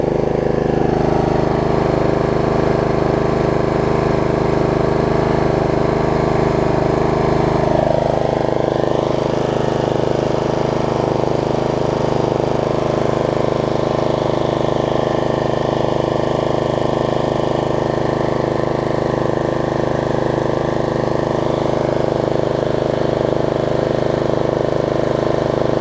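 A Snapper RER riding mower engine runs steadily nearby for the whole stretch, a continuous droning hum with one small shift in pitch partway through and no voices.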